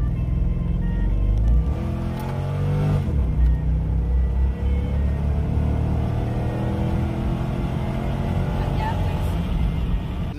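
A C5 Corvette accelerates hard on a freeway after a harmonic balancer replacement. Its engine note climbs repeatedly in a loud, close roar with road noise, and a voice talks over it.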